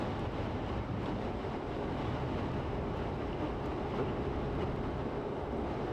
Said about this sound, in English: the wind is whipping things around pretty good here